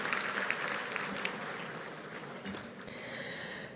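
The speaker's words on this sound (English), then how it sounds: "Give them a round of applause." Audience applause at a 2017 Mobility 21 Summit luncheon session, a steady, moderately loud wash of clapping that holds through the whole stretch, with no voices over it.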